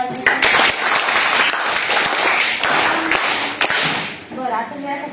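Children and adults clap for a correct answer during a quiz at a Zilla Parishad primary school, a dense burst of sharp, close hand claps filling the room, thinning toward the end as a voice starts.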